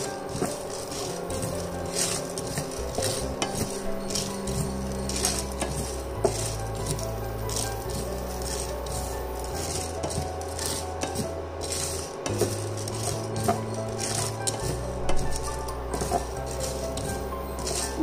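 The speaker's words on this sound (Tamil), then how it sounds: "இதை நம்ம கொஞ்சம் நல்லா வதக்கிக்கலாம்" Urad dal sautéing in oil in a pan while being stirred, with repeated close scraping and metallic clinks of a spoon against the pan over a faint sizzle, and steady low music running underneath.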